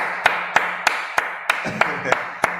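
An audience claps slowly in unison, sharp, evenly spaced claps about a third of a second apart with a brief murmur of voices partway through.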